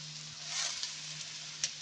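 Bitter gourd (ampalaya) hitting a hot pan for a Kapampangan sauté, a steady hissing sizzle that swells briefly, with a light clink near the end.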